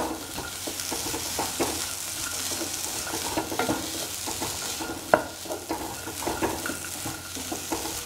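Salted shallots and ginger fry in a pan with a steady sizzle, and stirring scrapes and occasional utensil clinks break in close by.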